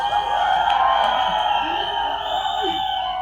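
A large crowd cheering and whooping at the Deva trailer launch, a steady loud roar of many voices with someone speaking over it.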